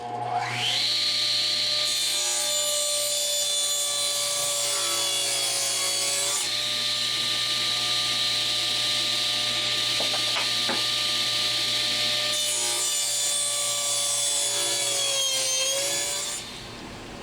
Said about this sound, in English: let me pass all 4 of those pieces through the saw